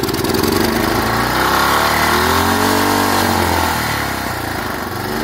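A CT 151 engine idles right after starting, running loud and close with a steady mechanical chug that dips slightly toward the end, with no air filter fitted.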